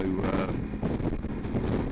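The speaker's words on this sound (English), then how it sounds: "It's very windy as well" Strong wind buffets the microphone in a steady, loud roar while riding a motorcycle into a squall toward the Isle of Wight, with a low engine drone beneath it throughout.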